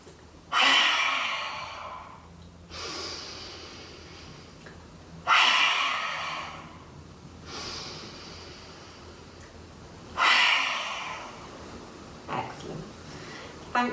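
Three forceful lion's breath exhales pushed out through an open mouth during a morning yoga HIIT session, each a loud breathy rush lasting a couple of seconds with quiet gaps between, close and alone.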